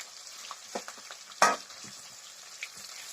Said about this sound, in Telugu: ఇప్పుడు టమాటాలు వేస్తున్నాను.